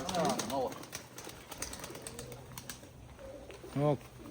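Pigeons cooing in a small dovecote, a few soft, low coos near and at moderate level, with people talking over and between them.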